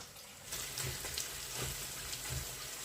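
Quiet, steady sizzling and crackling of onions and pork frying in a pan over high heat, with soft popping throughout.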